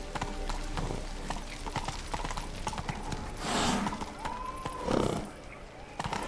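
Roach the horse in The Witcher 3 video game, steady clip-clop of hoofbeats at a walk with a whinny rising near the end, under quiet game ambience and a voice speaking.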